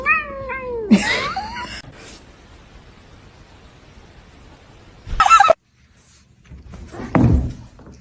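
A cat gives a couple of sharp, rising meows up close, followed by quiet, then a thump and a short rustling burst.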